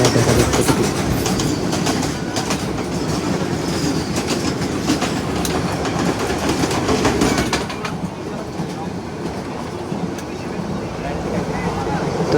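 A passenger train rolls slowly over the Ashuganj bridge on the way to Chittagong, making a loud, continuous rumble with rhythmic wheel clatter and gusts of wind noise, heard up close throughout.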